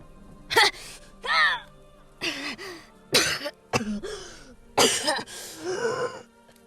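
A narrator's voice acts out a series of dry, strained coughs and throat-clearing grunts, several separate bursts spaced across a few seconds, close and fairly loud, imitating a character being knocked against a wall.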